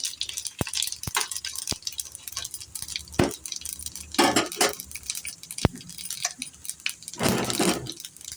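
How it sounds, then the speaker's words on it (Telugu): Sizzling crackle of tempering seeds frying in hot oil in a pan, with sharp pops and clicks scattered throughout and a few louder bursts of spattering. "చూడండి, చిటపట్లాడేలాగా చక్కగా వీటిని"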